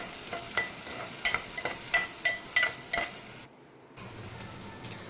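Onions toast in a pan with green chilies and curry leaves, a soft sizzle under a run of sharp scraping stirs of a spoon against the pan, then a brief pause before the quieter frying resumes.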